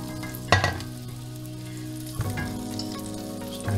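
Garlic sizzling in melted butter in a hot pan, a steady close frying hiss with a few louder clanks and scrapes of stirring along the way.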